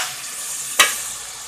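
Tomato masala frying with a steady close sizzle, broken by one brief scrape of a spoon stirring through the pan.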